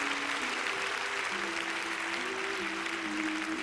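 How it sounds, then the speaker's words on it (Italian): Continuous applause from a magic show audience, steady clapping at moderate volume with a faint tonal hum underneath. "Senti l'applauso"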